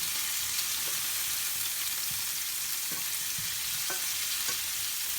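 Cherry tomatoes and garlic sizzle steadily in a pan on medium heat, with a spoon stirring in soft scattered scrapes and taps through the even frying hiss.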